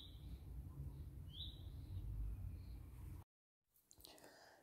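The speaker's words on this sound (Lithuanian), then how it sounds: "Ir paklausykite, kaip pas mane čiulba paukšteliai kieme." Small birds chirp in a home yard, with a few short, high tweets over steady outdoor background noise, then a brief cut to silence and a fainter burst of sound.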